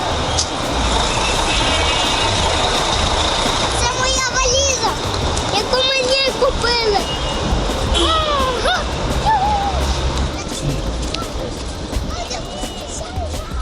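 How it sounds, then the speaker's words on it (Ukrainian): A private carrier's minibus rumbles along between Alexandria and Siwa in Egypt, its engine a steady low drone with road noise throughout, while people, including a child, talk over it. "Ось цим бусиком приватного перевізника ми проїжджаємо другу половину шляху."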